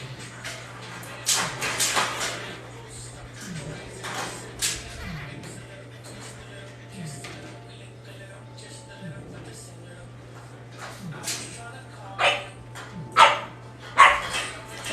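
Bulldogs bark outdoors on a bulldog farm, repeated sharp barks and yips scattered through the stretch, louder bursts near the start and end, with a steady low hum and a person talking at times in between.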